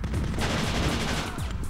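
Dense gunfire bursts crackle continuously in the Killswitch shooter game, loud and near, with overlapping shots blending into a sustained rattling barrage.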